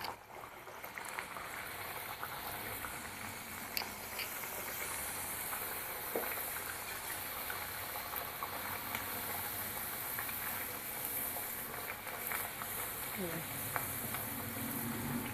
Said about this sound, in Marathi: कडकडीत तेलामध्ये ह्या पुऱ्या आपण सोडायच्या